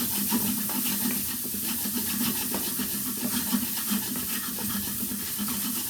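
Beef mince sauce with a stock cube stirred in a pan: continuous hissing simmer with soft scraping and rubbing strokes from the utensil, steady and close, no voices.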